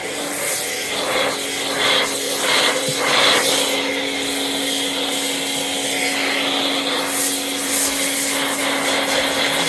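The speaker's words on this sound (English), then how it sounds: "decent foam with this pressure washer and lance" Steady, loud, broadband hiss and whine from a pressure washer and lance spraying foam while detailing a car, continuous and close with a faint tonal hum underneath and no pauses.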